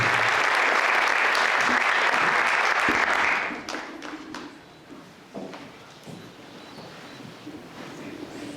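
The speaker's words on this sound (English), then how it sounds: "Let's make her a huge round of applause as we welcome up this powerhouse" An audience breaks into loud, sustained applause to welcome a speaker at an English in Action event, the clapping cutting off abruptly after about three seconds into quiet room noise and faint shuffling.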